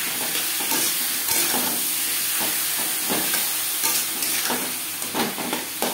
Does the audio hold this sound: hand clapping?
no